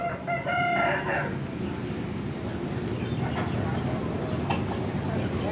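Roosters crow and chickens cluck at the Pecangaan chicken market in Jepara, with a loud crow near the start standing out over a dense, steady market din of distant birds and bustle.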